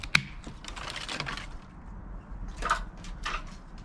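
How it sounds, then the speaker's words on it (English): Hand pruners cut grape vine canes during winter pruning on a UK allotment outdoors. A few sharp, close clicks of the blades mix with light rustling of the wood. "I'll trim just after that bud, snip it off"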